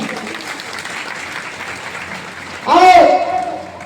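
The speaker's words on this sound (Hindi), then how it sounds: "एक बार जोरदार ताली होनी चाहिए" An audience breaks into loud, dense applause near the end of an address at a Safe Shop business gathering, following quieter room sound and talk.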